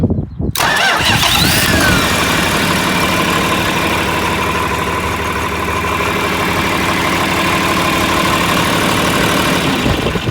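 A John Deere 4020 tractor engine cranks on a new starter and catches, then settles into a loud, steady, rumbling idle that runs on without a break.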